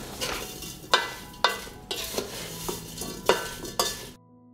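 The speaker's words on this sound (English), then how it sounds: "I stir while cooking." A spoon stirring blueberries and sugar in a pot on the stove, with regular scraping knocks about every half second over a steady sizzle of cooking, close and clear.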